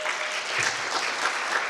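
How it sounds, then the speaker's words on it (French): An audience applauds steadily at an award ceremony for a school business club chapter, a brief, even wash of clapping from many hands. "merci d'applaudir, s'il vous plaît."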